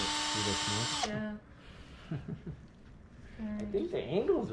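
A small power drill whines steadily while boring a hole into a plastic orthopedic prototype, then cuts off, followed by quiet talking and a brief second burst of drilling near the end.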